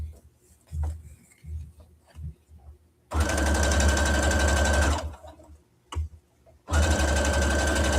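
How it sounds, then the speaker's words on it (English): A sewing machine runs a straight seam across a reversible mini tote bag in two loud, steady bursts of about two and four seconds, separated by brief pauses filled with soft handling sounds and quiet voice. "now we're going to go ahead and sew this straight down flat"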